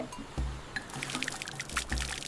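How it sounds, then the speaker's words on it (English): Fresh water falling from a cliff on a desert island, used as a natural shower: a continuous splashing pour and trickle, close by, with occasional heavier splatters. "The fresh water dripping from the cliff has become his natural shower."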